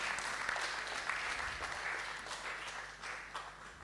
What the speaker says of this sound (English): clap for Abina, clap for Abina